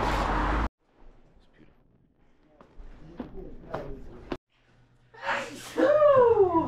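A single loud sneeze bursts out at the start inside a smoke shop, followed by quiet rustling, breaths and a brief voice.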